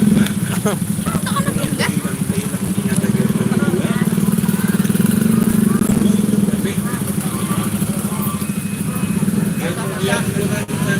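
Loud motorcycle engines idle and putter close by in a steady, continuous drone, with a busy rattling traffic rumble around them, in a homebound traffic jam.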